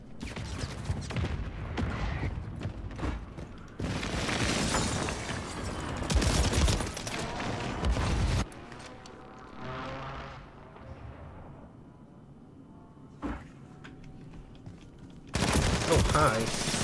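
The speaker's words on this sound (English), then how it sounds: "Hostile airstrike near your location." Airstrike blasts and rattling gunfire fill a Call of Duty Modern Warfare III match, with dense bursts of shots and booms that come and go, broken by quieter stretches and some voices talking.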